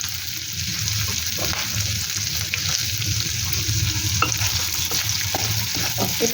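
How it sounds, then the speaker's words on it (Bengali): Chopped onion sizzles steadily in hot oil for chilli chicken while a spatula stirs and scrapes the pan in irregular strokes, close and continuous with no talk. "এবারে দিয়ে দেব পেঁয়াজ কুচি"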